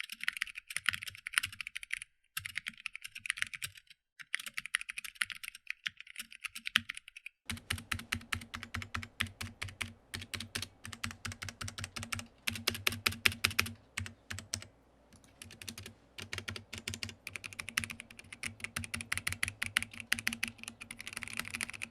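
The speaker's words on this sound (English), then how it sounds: "it's either going to affect the feeling or the sound of when you type on them" Continuous typing on a Whirlwind FX Element mechanical keyboard, rapid close clicky keystrokes with a slightly rattly space bar, steady throughout at moderate level.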